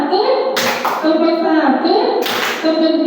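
A group claps hands together in counted patterns during a school activity, with two sharp bursts of clapping over a steady voice counting aloud.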